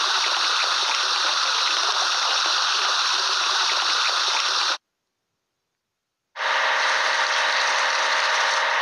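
A steady, loud hiss of water spray washes a toy crane, running continuously, cutting out to silence for about a second and a half, then resuming just as strongly.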